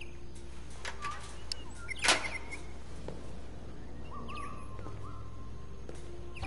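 A robotic bird in Detroit Become Human chirps in short, scattered electronic tweets over a steady low hum, with one sharper burst near the middle and a thin whistling note later.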